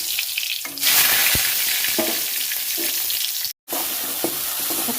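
Bay leaves dropped into hot oil, producing a loud, steady frying sizzle with occasional stirring scrapes and a brief cut near the end.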